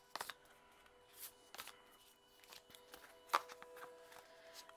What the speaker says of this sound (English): So I'm just going to pull 4 cards.